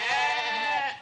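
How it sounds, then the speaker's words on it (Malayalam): A tethered goat gives one loud, close, wavering bleat that holds steady before trailing off, heard alone without talk. "അവിടെ ഒരു ആടിനെ കെട്ടിയിട്ടുണ്ട്"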